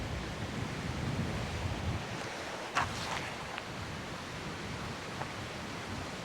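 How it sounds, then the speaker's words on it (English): Strong wind roars steadily over the microphone on an island beach, with surf washing beneath it as a constant broadband rush and a few faint knocks. "Guys, this wind is absolutely insane."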